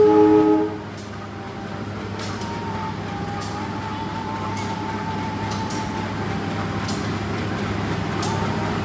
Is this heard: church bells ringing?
no